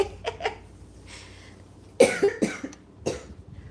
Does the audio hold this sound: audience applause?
no